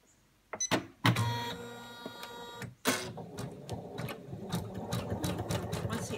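An embroidery machine stitches the outline of owl wings on baby toy blanket fabric, a close, loud rapid mechanical chatter that starts, pauses briefly and resumes with uneven bursts.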